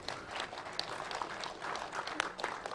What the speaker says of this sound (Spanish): Y aplauso para él, aplauso.